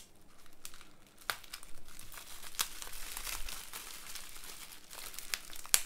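A mail package holding a vintage Star Wars figure is cut open and its wrapping torn, giving close crinkling, rustling and tearing noises with a few sharp snaps scattered through, and no talk.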